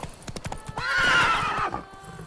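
Horse in the Witcher III video game, its hooves clip-clopping in a steady gallop rhythm, then a loud, close neigh rising in the middle before the hoofbeats resume.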